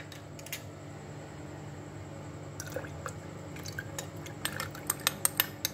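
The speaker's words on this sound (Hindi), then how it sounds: "1 गिलास दूध डालेंगे" Full cream milk poured into a jug for cold coffee, a soft liquid trickle and a few dripping splashes that build toward the end, close by over a low steady hum.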